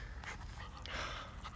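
A playful dog pants close by in quick, breathy bursts, with a faint whimper mixed in over steady low background noise.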